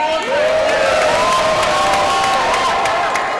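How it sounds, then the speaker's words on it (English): A crowd at a #FixTheMTA press conference at the New York State Capitol breaks into sustained applause, steady clapping filling the room with rising whoops and cheers riding over it for the whole stretch. "So I'd also like to just do a round of applause for everyone who has come up from New York City"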